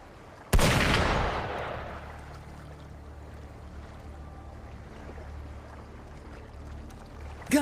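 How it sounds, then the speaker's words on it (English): A single loud gunshot cracks out in the Wuthering Waves video game and decays into a long echoing tail over low ambient rumble, with a faint second report right at the end. "Gunfire! We've got intruders."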